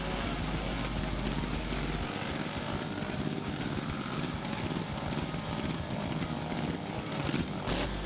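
Drag racing motorcycles, including a TT 500, launch off the start line at the 2008 Central Nationals in New Zealand, a loud, continuous engine roar that holds steady throughout with no talking.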